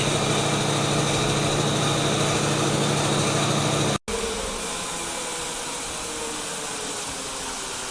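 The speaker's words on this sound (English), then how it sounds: "if we gradually increase this flow rate, the rotor speed will get changed" Pneumatic rotary motor running on compressed air with a flow control valve, producing a loud steady whirring hum that drops abruptly partway through and continues at a lower, softer speed.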